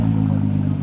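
A Volkswagen MK5 R32 with a newly fitted exhaust runs loud and close, a steady deep engine drone with strong low rumble throughout the short stretch.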